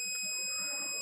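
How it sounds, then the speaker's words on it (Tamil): A multimeter continuity buzzer sounds on a shorted HP laptop motherboard with an 11th-gen i5, a steady high-pitched tone held close and clear for about a second. "ஸோ இந்த இடத்துல வந்து ஷார்ட் இருக்குது, அதனால தான் வந்து பஸர் அடிக்குது"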